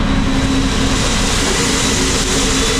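A large engine runs steadily with a loud continuous drone and a low hum, driving a belt and pulley, with no talk over it.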